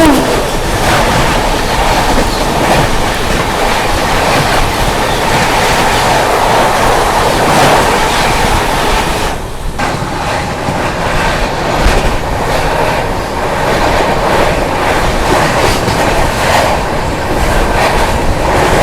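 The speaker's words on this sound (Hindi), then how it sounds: "सामने से आती हुई 12424 न्यू दिल्ली डिब्रूगढ़ राजधानी एक्सप्रेस" The 12424 New Delhi–Dibrugarh Rajdhani Express rushes past at close range, a loud continuous roar of wheels and rolling coaches with rhythmic clickety-clack over the rails throughout.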